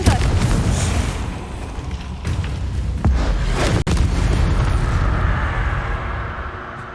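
A Confringo blasting spell going off in Hogwarts Legacy, a loud rumbling explosion with sharp cracks layered over a steady roar that slowly fades.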